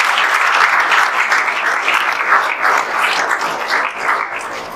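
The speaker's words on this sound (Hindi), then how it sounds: "चलिए, अंशु के लिए एक बार जोरदार ताली फिर से बजा दीजिए।" An audience of students at a coaching class gives a student loud, sustained applause, a dense, continuous wash of many clapping hands.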